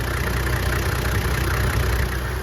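A Toyota Land Cruiser HZJ71 diesel engine idles with a steady, even low rumble that stays close and constant throughout, with no voices.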